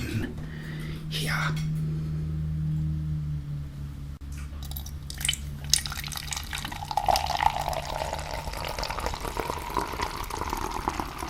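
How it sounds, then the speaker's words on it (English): Coca-Cola is poured into a glass, a close liquid splashing and trickling that builds into a steady fizzy fill after some handling noises and a low hum. "let's pour this in here."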